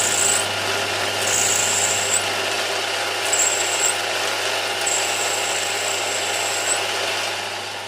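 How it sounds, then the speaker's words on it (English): A power drill bores a roll pin hole in a live steam model part, running steadily with a gritty grinding texture and a high whine that rises and drops in several bursts over about eight seconds. "let's see if we can drill this then."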